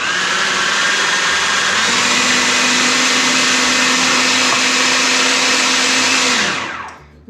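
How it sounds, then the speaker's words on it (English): A food processor whirs steadily as it blends pimento cheese, a loud continuous motor hum with a rising tone that holds for several seconds before spinning down to a stop. "Right, put the food processor on"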